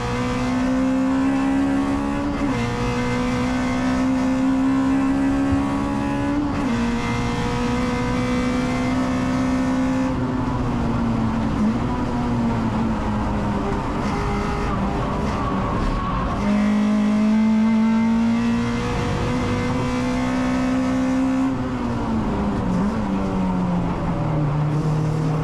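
A JTD Racing Honda Integra DC2 race car's engine revs hard and climbs through gears at a CSCC Tin Tops race, a loud continuous drone rising in pitch, dropping at each shift, then rising again over the full stretch.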